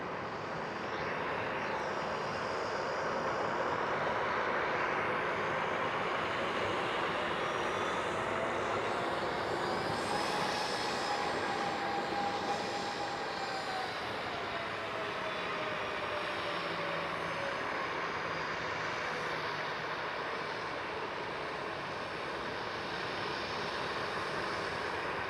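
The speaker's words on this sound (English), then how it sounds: "So right here we do have a KLM 737 arriving into the gate." A KLM Boeing 737 taxis into gate D2 at Amsterdam Schiphol, a steady moderate jet hum with a faint whining engine tone rising and falling midway.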